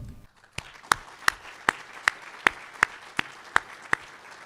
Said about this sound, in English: Let us recognize them with a round of applause.